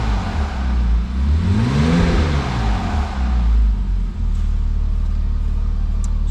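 A cold Porsche Boxster 987 2.7 manual revs to about 3,000 RPM: one loud, close, smooth swell that rises, holds briefly, then sinks back into a steady, burbling idle.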